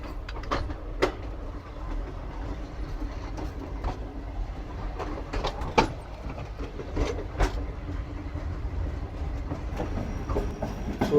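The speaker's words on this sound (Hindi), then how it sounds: "स्टेशन से निकलते ही काफ़ी लॉन्ग लेफ़्ट कर्व है जिस पर हमारी ट्रेन इस वक्त चल रही है।" Passenger train rolling along a long left curve through the Thar Desert, a steady rumbling run with rhythmic clickety-clack wheel beats and occasional sharp rail clicks, heard from on board without voices.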